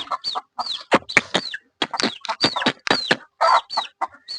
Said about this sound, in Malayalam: പിന്നെ നമ്മളിപ്പൊ രണ്ടൂന്ന് കോഴികളെ വിരിയിച്ചിട്ടുണ്ടല്ലേ